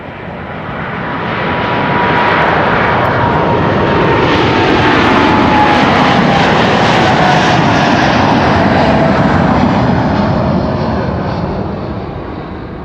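Boeing 787 Dreamliner jet at Amsterdam Schiphol, a loud engine roar rising over the first seconds, holding steady with a whining tone, then slowly easing off as it passes close by, no talk.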